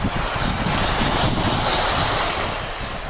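Sea waves surge and wash steadily from a boat while fishing for sea bream, a dense, loud roar of surf mixed with wind buffeting the microphone, with no voices.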